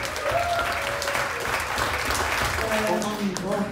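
A church congregation applauds and cheers at a miracle testimony service, a dense, continuous wash of clapping with voices shouting and a speaker talking over it.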